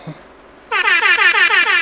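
A loud blaring air horn sounds in repeated pulsing blasts after a brief faint noise and a moment of quiet.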